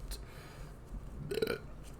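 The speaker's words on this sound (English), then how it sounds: "We're just gonna run over the burp." A single short, low burp, quiet and close, standing out briefly over faint background noise.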